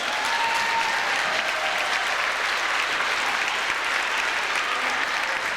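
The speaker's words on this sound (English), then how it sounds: "So let's have another round of applause for the tournament champs" Sustained crowd applause at a youth basketball league championship, loud and steady clapping from many hands for the tournament champions, continuous throughout with no break.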